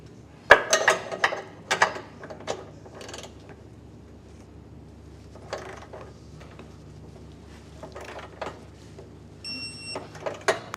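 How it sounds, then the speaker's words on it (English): Torque wrench tightening the bolts of a CURT 1.25-inch Class II trailer hitch on a 2025 Subaru Crosstrek, heard as bursts of sharp ratcheting clicks and creaks separated by quiet pauses, close and moderately loud. "Now we can torque them down to the specs and instructions"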